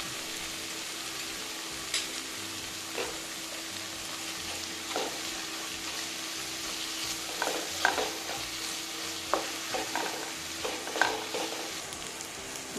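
Tomato masala with ghee fries softly in a pan for moong dal khichdi, a faint steady sizzle broken by scattered scraping clicks as a spoon stirs it.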